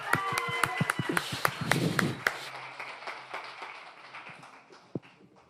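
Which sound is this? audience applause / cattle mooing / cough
audience applause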